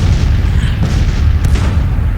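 Deep artillery booms roll almost without pause as batteries fire counter-battery at Union guns in the Grand Tactician strategy game, a loud, dense rumble with a couple of sharper cracks standing out.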